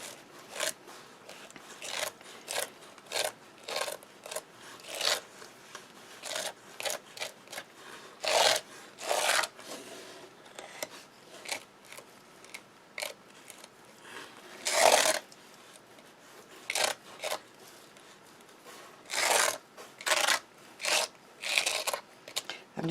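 Repeated scrapes of Glitz Glitter Gel being spread over a stencil, a series of short rasping strokes in an irregular rhythm, close and fairly loud, with quieter gaps between passes.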